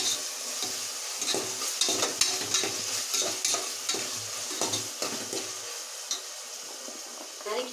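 Sambar rice being stirred in a sizzling pan after turmeric powder is added, with repeated scraping clicks of a spoon over a constant frying hiss.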